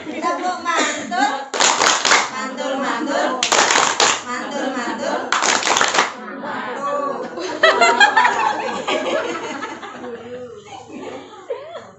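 A group of mothers at a parenting session performs a rhythmic clapping chant, with loud bursts of unison hand claps in repeated patterns mixed with chanting voices, laughter and chatter between the bursts.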